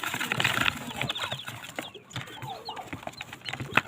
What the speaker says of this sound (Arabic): فانا بدل ما اجيب ابيض جبت كتاكيت اهي بلدي اهو.